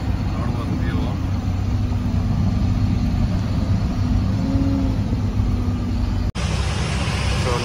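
Eicher Pro 6028T truck driving on the road to a stone crusher, its engine a loud, steady low drone with road rumble, briefly cut off near the end; someone speaks over it.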